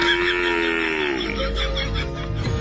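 A water buffalo lets out a long, low moo that slides downward, loud and close, with a faint voice briefly audible around it.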